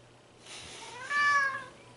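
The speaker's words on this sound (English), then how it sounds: "Meow." A cat gives a drawn-out, rising and falling meow, fairly close and moderately loud against a quiet indoor background hum.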